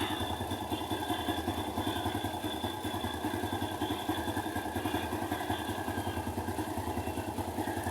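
A motorcycle engine warming up idles steadily for several seconds, a close, even, rapid chugging with a faint metallic clatter and no talking.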